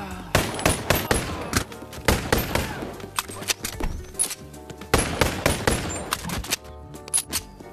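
Gunfire in a video game crackles in loud, rapid bursts of shots, with brief pauses between volleys and heavy booming impacts close up.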